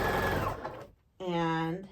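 A sewing machine stitching a quilt patch runs in a quick, steady whir after a brief pause, preceded by softer rustling and mechanical noise up close.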